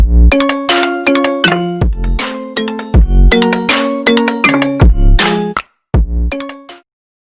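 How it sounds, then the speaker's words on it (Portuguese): A YouTube channel intro jingle rings out as a bright, bell-like melody of quick chiming notes with deep thumps underneath, loud and close, then cuts off abruptly into silence. "Em 3, 2, 1 e solta a vinheta."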